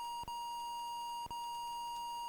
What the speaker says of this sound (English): So we got this whole beep, beep, beep, beep.